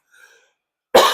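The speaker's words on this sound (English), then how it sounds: "Sorry about coughing." A single sharp, close cough bursts out after a faint brief sound and near silence, loud and throaty.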